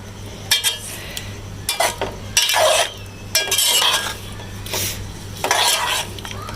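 Boiled potatoes being stirred and roasted in a pan for aloo chaat, with loud bursts of spatula scraping and clinks against the pan over a constant low hum, coming in several separate strokes.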